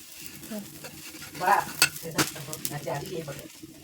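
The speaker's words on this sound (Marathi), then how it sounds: "हा लोखंडी तवा आहे त्याच्यावर बनवतो आम्ही तसं तेल लावून घ्यायचं" Food sizzles in oil on an iron griddle over a cow-dung-fuelled clay stove, with close, crackling frying bursts and sharp scraping strokes of stirring in an uneven rhythm.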